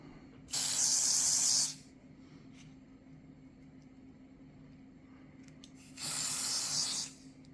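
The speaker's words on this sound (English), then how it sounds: "here's my glue boost that I definitely want to spray" Glue accelerator hisses from a spray can in two sharp bursts, each about a second long, close and loud with a quiet pause between them.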